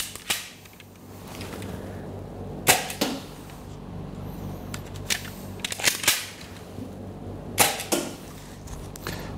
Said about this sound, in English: Sometimes it hits the target and does not stick.